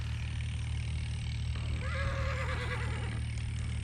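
Mastana the horse lets out a wavering whinny lasting over a second, heard over a steady low farmyard hum and background noise.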